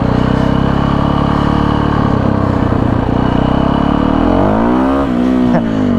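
Yamaha WR450F supermoto engine revving hard in first gear during a one-handed power wheelie, a loud, close, buzzing single-cylinder roar that holds steady then climbs and falls near the end.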